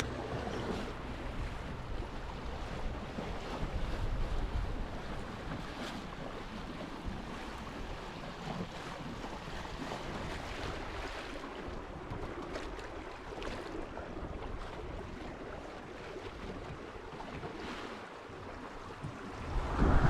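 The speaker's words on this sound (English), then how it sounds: "So the forecast said there's going to be a bit of breeze, and there is. She's a bit gusty" Gusty wind buffets a sailboat on Lake Benmore, with a steady rush of breeze, wind noise on the microphone and water sloshing against the hull, all fairly faint and continuous.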